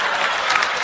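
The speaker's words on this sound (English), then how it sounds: "You notice only the women were clapping" A comedy audience claps in a dense burst of applause, loud and steady for under a second without a break.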